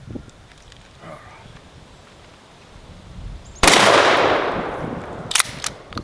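A straight pull shotgun fires a Winchester Club Load of 7.5 shot in one sharp, loud blast that rolls off into a long decaying echo. Two quieter cracks follow, and the lead-in is faint outdoor ambience.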